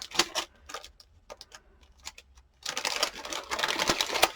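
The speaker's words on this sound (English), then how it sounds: "oh sorry about the crinkling" Cut paper collage pieces crinkling and rustling as they are handled and sorted, a run of light crackles that grows denser and louder toward the end, close up.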